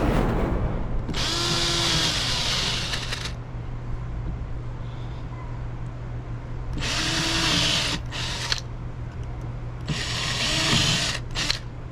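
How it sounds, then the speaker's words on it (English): A power drill bores pilot holes through a boat's fiberglass skin into the wood beneath, in three loud whining bursts of a few seconds each, close up, with quiet gaps between them. "when I pilot drill, I like to just break through the fiberglass"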